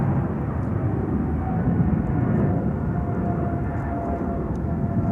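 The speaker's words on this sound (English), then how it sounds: "the Delta coming this way is an A350" A Delta Airbus A350 airliner takes off from Schiphol's Polderbaan runway, its engines a steady, distant broadband roar that holds evenly throughout.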